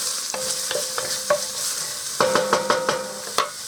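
Two cloves of garlic sauté in a pan for split pea soup, giving a soft steady sizzle punctuated by several sharp clinks and scrapes of stirring, close and with no one talking.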